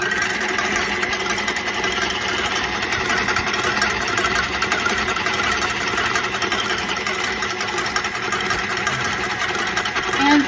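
An electric mixer beats two egg yolks in a bowl until thick and lemon colored, a steady continuous motor whir with vibration running the whole time at a fairly even level, with no talk over it.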